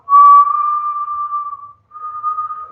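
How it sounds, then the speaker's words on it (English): Breath whistling through pursed lips during Kundalini yoga breathing, a steady, fairly loud, pure tone held for nearly two seconds, then a brief break before a second, softer whistle. "It's going to make a whistling sound most likely."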